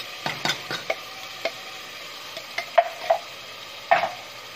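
Ground tomato paste goes into fried spinach in a pan, with a low sizzle beneath sharp scattered clicks and scrapes of a spoon stirring against the pot, close and without talk.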